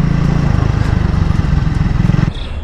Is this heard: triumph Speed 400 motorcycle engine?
yes